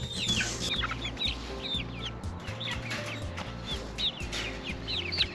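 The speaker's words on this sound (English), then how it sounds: "a chick party in the garden and then you gotta go find everybody. Okay, 2 more baby chicks." Baby chicks out in a garden give off a busy stream of high, rapid peeping chirps, with lower clucking from hens mixed in, close and continuous.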